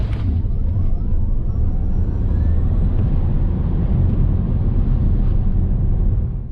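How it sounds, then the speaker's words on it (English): A Tesla Model S Plaid launches from a standstill with the throttle floored, filling the cabin with a loud, steady, low roar of road and wind noise that holds strong for several seconds, with no voices. "you can release the brake pedal with the throttle still floored, and off you go to the land of Plaid"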